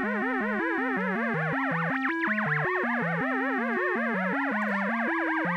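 ARP 2600 synthesizer sample and hold run through the lag generator, giving a steady stepped sequence of smoothed, gliding tones that rise and fall in a regular rhythm, clear and close, with no talking.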